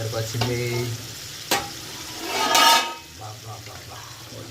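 Chicken fry sizzles in a pan while being stirred, bursts of frying hiss and scraping spoon strokes rising and falling close by, with a voice talking briefly at the start and a steady low hum underneath.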